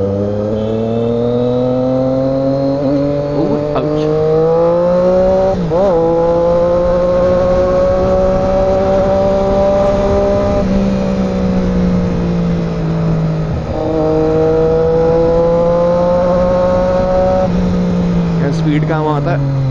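Triumph Daytona 675 motorcycle engine droning steadily and loudly on an open road, with its pitch rising and falling through several gear changes.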